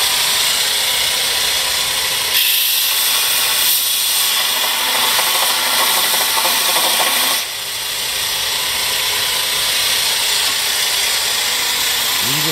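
A Porter Cable 4-inch, 1 HP Model 64 belt sander grinds a piece of metal, a loud, steady, harsh rushing whine that dips briefly in the middle and then carries on.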